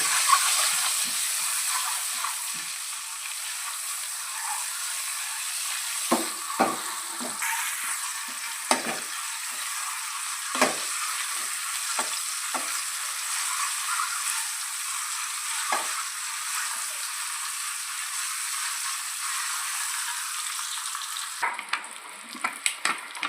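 Eggs frying in oil with chili powder and salt give a continuous close sizzle with intermittent stirring scrapes and knocks of a spatula against the pan, lasting a long stretch without speech.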